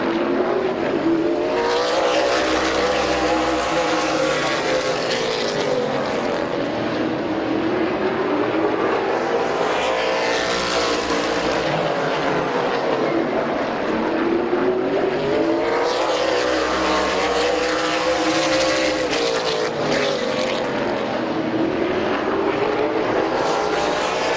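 Race cars lapping Midvale Speedway, engines swelling and fading in regular waves as the pack passes by roughly every five to six seconds, loud and continuous from the stands.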